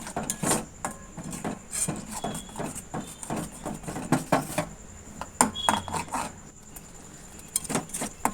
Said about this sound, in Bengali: দিয়ে নেড়ে চেড়ে ভালো করে কষতে থাকবো যতক্ষণ না তেল ছাড়ছে